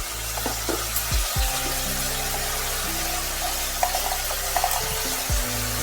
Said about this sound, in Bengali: ভালোভাবে তেলের সাথে টমেটোর সাথে নুন আর হলুদ ভালোভাবে একটু কষিয়ে নিতে হবে